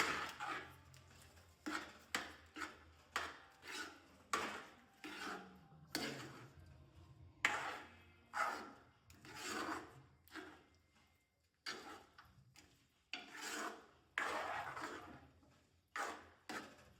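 Carrot halwa with jaggery stirred in a pan, giving a steady run of short scraping and clinking strokes, roughly one or two per second, close and moderately loud with no talk.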